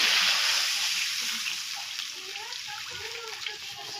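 Water is poured into a hot pan of cooking pumpkin, giving a steady, hissing splash that fades slightly over a few seconds, close and moderately loud.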